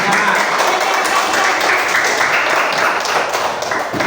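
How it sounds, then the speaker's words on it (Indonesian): A class of fifth-grade schoolchildren claps for classmates, dense and loud, with irregular taps and thumps mixed into the continuous applause. "Ya, tepuk tangan dulu untuk teman-teman."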